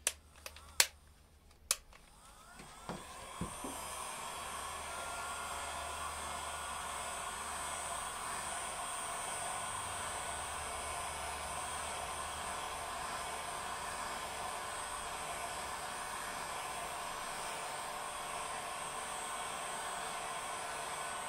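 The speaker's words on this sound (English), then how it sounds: "You can see my new heat gun is burning off the paint." A heat gun burning off paint makes a steady breathy rushing roar, close and constant, after a few sharp clicks at the start.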